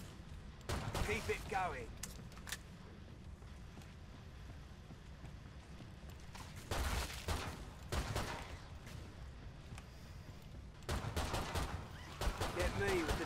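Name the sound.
gunfire in video game Killing Floor 2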